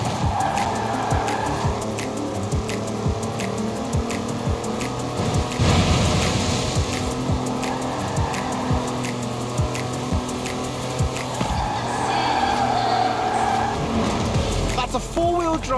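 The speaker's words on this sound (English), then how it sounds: "That's a 4-wheel drive car on mud tyres completely sideways." A four-wheel-drive car on knobbly mud tyres drifting completely sideways in Forza Horizon 4, its engine droning and revving while the tyres squeal and skid, loud and continuous throughout.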